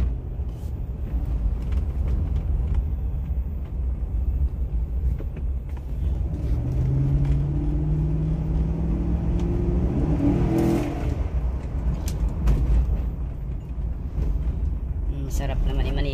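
A Chevrolet Tahoe with a faulty six- or eight-cylinder engine revs and rumbles steadily, its pitch rising briefly mid-clip amid road noise, heard from inside the vehicle.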